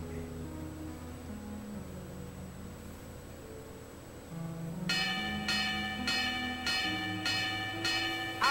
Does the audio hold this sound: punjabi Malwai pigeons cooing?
no